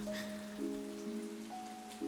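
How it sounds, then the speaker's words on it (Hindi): Heavy rain falling in the animated film Luca, a steady soft hiss of drops on surfaces under faint, sustained tonal music. "तभी तेज बारिश शुरू हो जाती है।"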